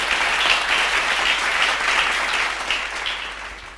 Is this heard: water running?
no